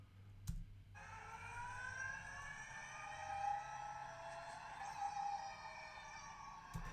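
A 2021 Ford Mustang Mach E GT slows down, its electric motors giving off a thin, steady whine with layered tones that drift slightly in pitch, fairly quiet and alone after a short thump.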